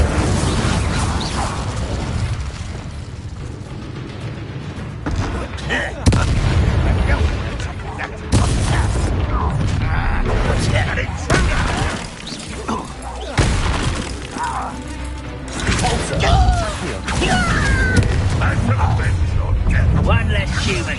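Blasting-curse spell explosions in a video game go off as repeated booms with shattering debris and crashes, mixed with game voices and effects throughout.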